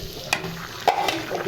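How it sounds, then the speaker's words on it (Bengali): Vegetables fry with dried red chilies in a pan, giving a steady low sizzle broken by a few short scrapes of stirring, close and moderately loud. "শুধু শুকনো মরিচ দিয়েই ভাজিটা করলাম"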